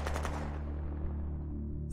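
Rapid volleys of gunfire from tanks in the strategy video game Shadow Empire, a dense rattling burst that fades into a decaying rumble, alone at moderate level.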